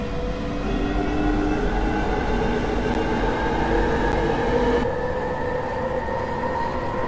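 A London Underground train in a train simulator game rumbles along the line toward Stratford with a steady, even roar that holds for the whole stretch. No voices.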